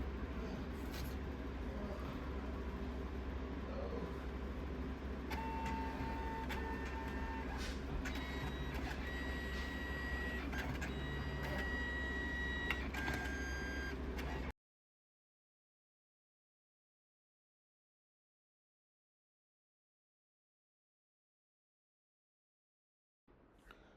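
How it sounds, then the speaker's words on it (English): A photo printer whirs and hums steadily with intermittent electronic beeps and mechanical clicks, then falls silent for the rest of the clip. "So it's connecting to the printer."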